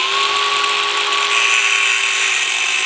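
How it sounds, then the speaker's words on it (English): Angle grinder notching a transmission bell housing, a steady high-pitched whine with a constant tone, loud and close throughout without speech. "what you just use an angle grinder to notch this so you can set your sawzall there"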